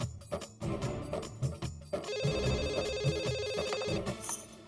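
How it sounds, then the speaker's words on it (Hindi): A telephone ringing in a sitcom home scene: after a few scattered background sounds, a bright, continuous electronic ringtone starts and holds steadily for about two seconds before cutting off. "ये भीड़े जिद्दी अभी फोन भी नहीं उठाएगा"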